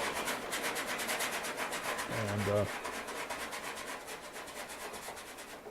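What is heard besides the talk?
bristly brush scratching on tight canvas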